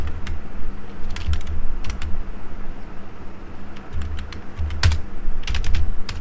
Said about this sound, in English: So here we will write enter your text.